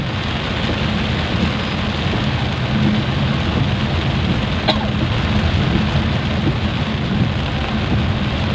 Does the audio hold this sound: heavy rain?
yes